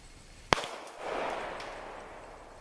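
A single sniper rifle shot gives one sharp crack, followed by a duller, rolling boom that arrives from far away and slowly fades.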